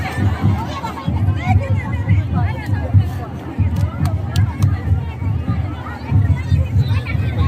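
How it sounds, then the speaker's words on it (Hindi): A huge crowd at a fair where a chief minister is appearing fills the air with dense, close hubbub of many overlapping voices and steady chatter, loud and continuous throughout. "भयानक भीड़ है, भयानक भीड़ है। अभी पहुंचा भी नहीं है लेकिन भीड़ बहुत ज़्यादा है"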